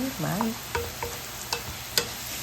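A spoon stirs mixed herbs into creamy beef meatballs in a sizzling pan, with soft scraping strokes every half second or so over a steady close frying hiss, and a brief voice-like tone at the start.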